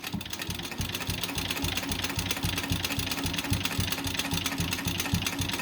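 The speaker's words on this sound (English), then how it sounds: "right now I am stitching through that background applique" A sewing machine quilting through a fused background applique runs fast and steady, a close, even mechanical chatter of stitches that goes on without a break and with no talk.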